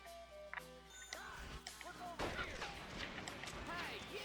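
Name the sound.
gunfire in video game Red Dead Revolver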